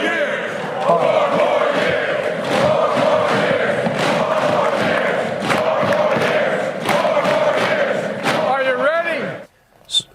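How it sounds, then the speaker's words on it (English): Rally crowd at a political event chanting four more years, a loud, dense mass of voices with rhythmic pulses throughout, ending in a brief pause and a final burst. "force the crowd to chant 4 more years"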